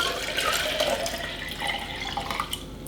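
Tap water poured steadily into a container for rosemary lemonade, a continuous splashing, trickling rush close by with no talking.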